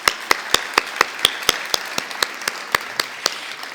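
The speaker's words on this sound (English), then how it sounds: "let's do a round of applause for all of our winners." Sparse, evenly spaced hand claps at a university research award ceremony, a thin and regular rhythm of sharp individual claps rather than a full crowd, moderately close.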